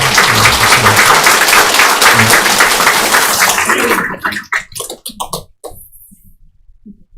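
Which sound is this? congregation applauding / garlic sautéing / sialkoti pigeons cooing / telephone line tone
congregation applauding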